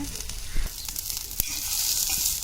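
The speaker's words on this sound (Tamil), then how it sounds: "பாவக்காயை ஒரு 5 நிமிஷமாவது நல்லா எண்ணெயில் வணக்கிக்கணும்." Bitter gourd frying in hot oil gives a steady sizzle, with a few low knocks and clatters from stirring in the pan, close and fairly loud and with no voices.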